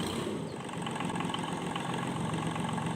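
A Kubota tractor idles in Farming Simulator 22, its engine giving a steady, even rumble that holds without change from start to finish.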